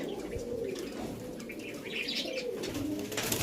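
Golden teddy pigeons coo softly and steadily, with a few chirps and a brief flutter of wings against quiet background noise.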